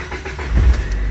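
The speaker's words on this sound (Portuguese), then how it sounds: "Liguei o carro," Chery Tiggo SUV engine starting from cold, a loud close rumble that swells briefly as it catches and then settles into a steady low running tone, with no voices.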